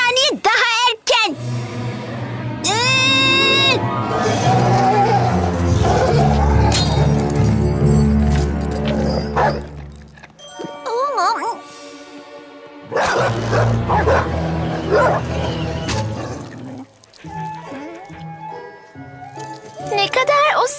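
A cartoonish two-headed dog barks and yips repeatedly amid lively music and playful voices, the barks loud and close with short bursts and pauses.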